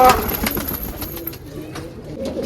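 Soft cooing and flutter of pigeons close by, mixed with rustling ambient noise.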